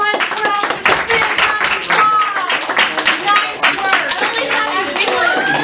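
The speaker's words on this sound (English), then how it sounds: "let's give our last round of applause" Children at a space-mission learning center clap in a final round of applause, brisk close hand claps mixed with excited young voices chattering over them.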